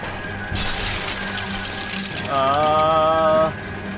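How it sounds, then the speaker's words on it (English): Bulldozer in the L.A. Noire video game, a steady loud engine rumble with a crashing burst near the start and a rising mechanical whine partway through, continuous and close. "Escape the bulldozer."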